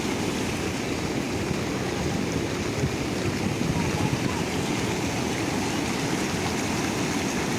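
Floodwater rushing across a road after heavy night rain, a loud continuous roar of flowing water with a dense, churning low end, steady and close throughout.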